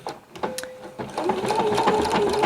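A sewing machine stitches machine appliqué, starting with a few hesitant clicks and then settling into a fast, steady mechanical whir close by.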